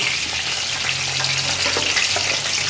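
Tinda (round gourd) fries in oil in a kadai, giving a dense, continuous hiss and bubbling sizzle, loud and close with no talking.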